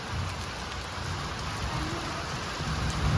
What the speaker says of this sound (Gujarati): જુનાગઢમાં પેલો વરસાદ આવી ગયો ફાઇનલી